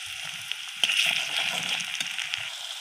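Garlic paste dropped into a pan of browned onions, a sudden hiss giving way to a steady, moderately loud sizzle with faint bubbling and splatter underneath.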